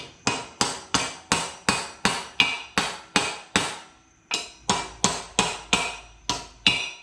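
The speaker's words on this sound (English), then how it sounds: "you can give it a few whacks here first with your hammer" Hammer blows on the front brake rotor hub of a Jeep CJ7, about fifteen sharp metallic whacks in steady rhythm with one brief pause, loud and close, with no talking.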